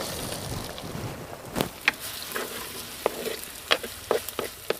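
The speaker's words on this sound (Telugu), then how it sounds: "ఇప్పుడు 2 చెంచాల నూనె వేసుకుని అల్లం వెల్లుల్లి ముక్కలు వేసుకుని పచ్చివాసన పోయే వరకు వేయించుకుందాం." Ginger and garlic pieces frying in two spoons of oil, a soft steady sizzle with scattered sharp spatters and utensil clicks, close and moderately quiet.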